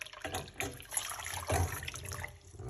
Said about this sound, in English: This is the boiling water for my kettle.